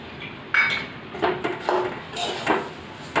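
Semolina and grated coconut being stirred in a pan, a spoon scraping and clinking against the metal in irregular taps and short scrapes, close and fairly quiet.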